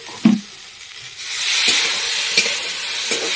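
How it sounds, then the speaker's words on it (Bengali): A spoon knocks against a pan and stirs a poppy seed and green chilli paste loosened with water for okra posto, a couple of sharp taps first, then a rising, steady sizzle with further scrapes. "জল দিয়ে একটু নাড়িয়ে দেবো সুন্দর করে।"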